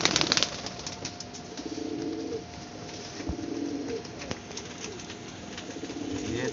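Soft repeated cooing from a female pigeon, a series of low throaty coos in short bursts, heard close against faint background noise with a few sharp clicks.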